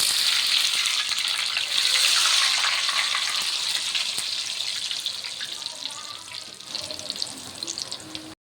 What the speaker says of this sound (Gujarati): તો આ રીતે જો આપણા વડા તળવાના છે